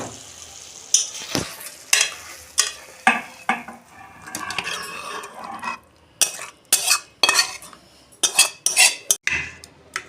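Cooked fish curry is tipped and scraped out of a pan, with a string of sharp metallic clanks and scrapes of a spoon against the pan over a faint sizzle, close and uneven, no voices.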